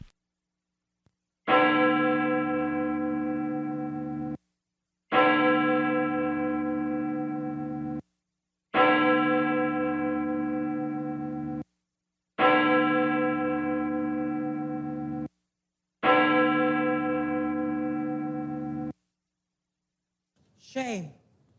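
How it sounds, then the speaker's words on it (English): A church bell tolls five times in a slow, even rhythm, each strike loud and ringing out with a long decaying hum before the next, and a voice speaks briefly at the very end. "ring the fucking bell"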